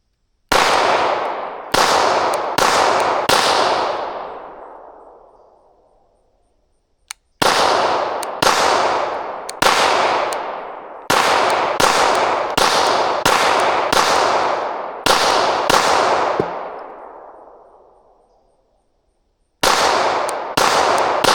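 A Canik MC9 Meta Prime pistol fires a string of loud, sharp shots in quick bursts, with pauses between groups. Each report rings out with a long echoing tail outdoors, and no voices are heard.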